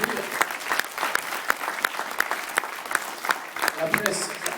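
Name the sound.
audience applauding at a political meeting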